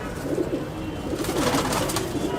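Malwai pigeon cooing close by in a few soft, repeated low coos over a steady background hiss.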